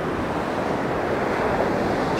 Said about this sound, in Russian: Волнение довольно-таки сильное